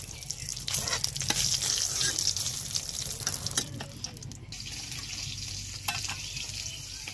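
Stuffed pointed gourd (potol) sizzles steadily in hot oil in a pan, a dense close crackle with occasional scraping stirs and no talk.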